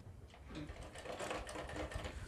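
A sewing machine stitches a straight seam on doubled can-can net for a gown, running in a quiet, steady, continuous whir throughout.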